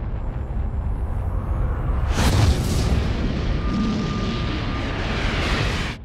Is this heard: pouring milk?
no